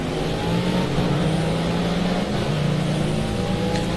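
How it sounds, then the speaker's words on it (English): Roaring Mercedes race car engine in a racing video game, a loud, continuous drone holding steady with slight pitch shifts as it accelerates, filling the whole stretch with no talking. "You can certainly hear that roaring Mercedes."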